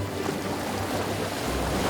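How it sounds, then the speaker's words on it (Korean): Rough sea surf pounding the rocky shore of Cheongdeungdo island, a brief, dense rushing wash of breaking water with a low rumble underneath and no talk. "무섭게 덤벼드는 파도가 겁날 만도 한데"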